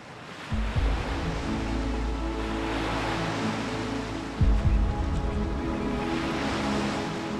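Ocean waves wash steadily onto a Norwegian beach of ancient rock, a broad continuous surf roar with low rumbling swells that build twice, close and loud, with no voices.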